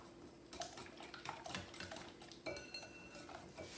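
Whisk clinking against a bowl while beating a French toast casserole egg mixture with cinnamon, quick rhythmic metallic taps, faint and close.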